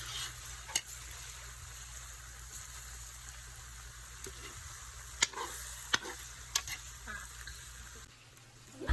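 Shrimp sizzle in a pan with butter and garlic, giving a steady, soft frying crackle with a few sharp ticks and clinks from stirring, heard at moderate volume with no clear talking.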